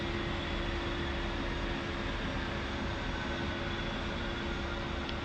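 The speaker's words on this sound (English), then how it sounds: "Spool down the left engine by pressing the right Alt and N keys." An A-10C jet's left engine spools down in a flight simulator game, a steady broadband turbine rumble and whine holding level throughout without clear decay, with no voices.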